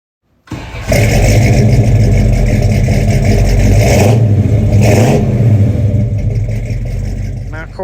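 A 1991 Chevy S10 pickup engine cranks, catches and revs loudly, then settles into a steady roar that slowly eases, heard up close.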